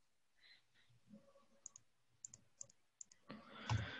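Computer mouse clicks come as a sparse series of sharp, quiet ticks a fraction of a second apart while Aspen Plus process software is used, with faint room noise and a louder rustle at the end.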